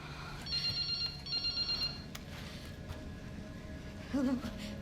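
A cell phone rings in the Resident Evil Requiem video game: two bursts of a high, warbling electronic ringtone, fairly faint beneath a dark ambient hum, followed by a short lower tone.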